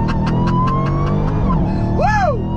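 A 2021 Dodge Charger Hellcat Redeye accelerates hard on throttle, its engine pitch sweeping upward in a loud, close roar with pulsing exhaust bursts and a rising whine heard from inside the car.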